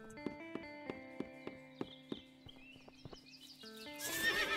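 Horse in the video game Above Snakes, a regular clip-clop of hooves at a walking pace with a whinny, close and fairly quiet, ending in a louder rush of noise.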